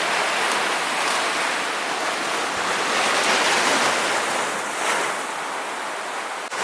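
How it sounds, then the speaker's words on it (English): Ocean waves surge hard into Mermaid Grotto, a sea grotto, as a steady loud roar of broadband surf with swells building and easing, no voices. "These waves are starting to push in pretty hard."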